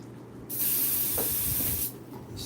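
An airbrush sprays white paint in a steady, close hiss that lasts about a second and a half and then cuts off, with nothing else heard.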